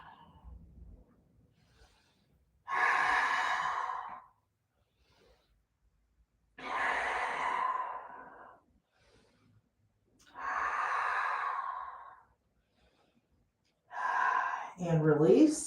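Deep, slow breaths during a yoga pose, four long airy exhalations spaced a few seconds apart with near-silence between, close and clear, ending in a short voiced sound.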